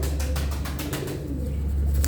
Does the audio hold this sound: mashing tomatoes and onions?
no